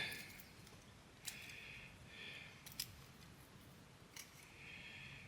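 Pruning shears snip through blueberry plant branches outdoors, a few sharp, faint clicks spaced over a quiet background.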